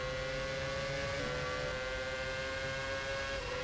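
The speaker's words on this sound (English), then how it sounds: "the Ferrari of Silvio Fresco, dives down the inside to make an overtake during qualifying" Race car engines in the rFactor racing game drone steadily during Formula-style qualifying at the Malaysian Grand Prix, a sustained high whine with slight pitch shifts, faint and without talk.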